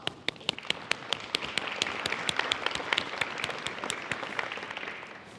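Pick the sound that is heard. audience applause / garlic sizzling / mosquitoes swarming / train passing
audience applause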